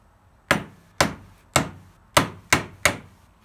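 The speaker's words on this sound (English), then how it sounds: "I have my little socket that I'm gonna place over this and we're just gonna tap it back in" Six sharp metallic taps of a hammer driving a socket against an armature cooling fan to seat it, spaced about half a second apart, loud and close with quick decays and no speech.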